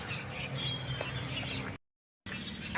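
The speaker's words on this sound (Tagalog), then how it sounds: "naririnig niyo yung tunog ng ibon" Many birds chirp and squawk in a tree outdoors on a cold, windy day, a dense busy chatter heard from nearby with wind noise, no talking, and a short dropout near the end.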